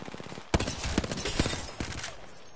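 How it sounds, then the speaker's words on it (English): Gunfire in the Apex Legends video game: a sharp shot sets off irregular, rapid volleys of cracking shots at fairly close range, which thin out toward the end. "They spotted me. I'm taking shots."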